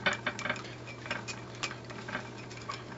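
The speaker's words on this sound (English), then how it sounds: "And then I'm just going to stir up this homemade sauce." A spoon stirs homemade sweet chili dipping sauce in a bowl, making soft, repeated light clinks against the dish in an even rhythm, faint and close over a steady low background hum.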